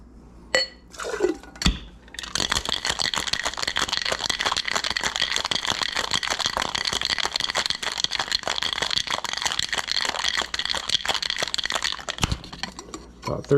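Ice cubes rattle hard and steadily in a cocktail shaker, about thirty brisk shakes of a sloe gin sling with cane sugar and Peychaud's bitters. The dense, continuous clatter runs close and loud for roughly eleven seconds before stopping abruptly.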